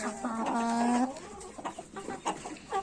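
Ornamental chickens and roosters in a coop cluck while eating feed, one drawn-out call followed by scattered short clucks close by.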